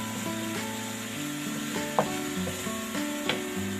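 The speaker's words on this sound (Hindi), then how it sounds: "वो भी मैं इसके अंदर फ्राई कर लूँगी" Ginger and green chili paste sizzling in a pan for mutton karahi, a steady frying hiss with occasional stirring scrapes, heard close under a tonal musical background.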